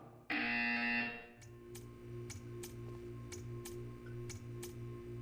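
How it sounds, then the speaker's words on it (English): A loud electronic buzzer blares briefly in Portal 2, then gives way to a steady low hum with a run of regular ticking clicks. "You will hear a buzzer."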